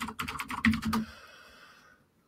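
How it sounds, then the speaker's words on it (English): Rapid clacking of a clunky keyboard, a quick burst of keystrokes ending with a couple of heavier taps, then fading into quiet. "You have to hear me type a little bit."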